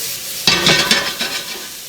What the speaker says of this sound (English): Drop a few peppers. Let that cook a little bit.